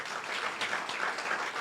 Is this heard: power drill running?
no